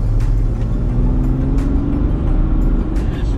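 A car engine pulls hard as the vehicle accelerates out of a curve, a loud, steady drone with rising tone filling the whole stretch and no voices over it.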